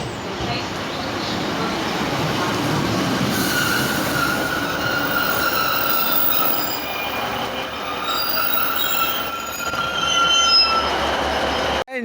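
East Midlands Railway Class 156 diesel train at Beeston station, rolling through with continuous wheel and rail noise and high squealing tones, loud and close, with faint voices and station sounds mixed in.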